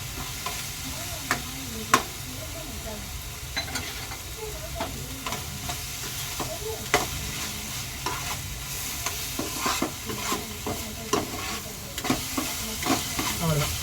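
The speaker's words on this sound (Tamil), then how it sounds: "நல்லா கிண்டிகிட்டே இருக்கலாம்." A spoon repeatedly scrapes and stirs masala sautéing in a pan for chicken masala, with irregular clacks over a constant close frying sizzle.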